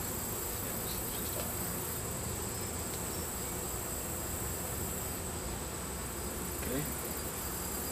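A steady, dense hum of honeybees fills the clip, a mass of bees buzzing continuously nearby at a hive, with a brief spoken word at one point.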